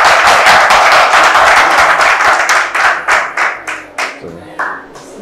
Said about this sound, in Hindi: एक बार जोरदार तुम लोग ताली बजा सकते हो।